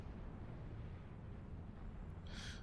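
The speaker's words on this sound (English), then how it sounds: "my gunships are destroying what's left of Le General" Continuous heavy rumble of gunship fire and explosions pounding an enemy base in the real-time strategy game Supreme Commander 2, a dense, loud roar throughout with a brighter hissing burst near the end.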